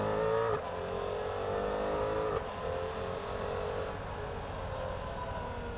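A Suzuki GSX-8S motorcycle accelerates in its C riding mode, with a loud, steady engine drone that dips briefly at two quick gear shifts and then keeps pulling, with no talking.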